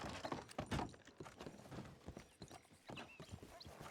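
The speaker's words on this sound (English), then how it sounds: "I think I can hear horses approaching." Horses approaching at a steady clip-clop, hooves knocking in an irregular cadence at moderate distance, with soft rustling and thuds mixed in and no talking.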